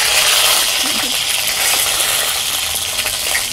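Eggplant pieces fry in hot oil for an oil-rich brinjal curry, giving a steady, close, loud sizzle with crackling spits and splatters throughout, no voices.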